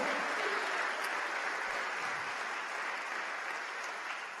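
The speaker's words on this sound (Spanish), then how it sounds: "Démosle palmas al Señor." A church congregation claps together in sustained, even applause that fades slightly toward the end, the room filled with steady hand claps and no voices.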